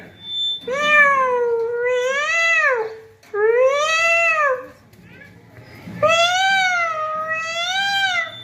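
A young primary-school child imitates a cat during a classroom activity, giving four long, drawn-out meows with short pauses between them, loud and close.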